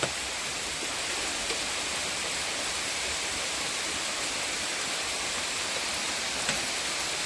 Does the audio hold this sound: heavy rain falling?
yes